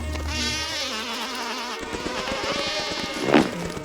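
Bees buzz around forest flowers with a close, steady, loud drone and a sharper swell near the end, and no voices.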